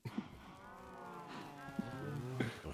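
Cows low in a video game, several drawn-out bellowing moos overlapping through the stretch, fairly clear and close with no talking over them.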